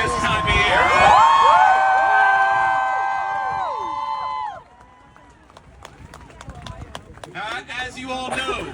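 A joyful crowd at the March for Life rally in Washington, DC cheers and shouts with whistles, loud at first, then fading to scattered distant noise before rising again near the end.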